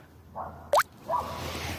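A small perch released back into the water after catching, giving one brief close splash and drip, followed by softer trickling water.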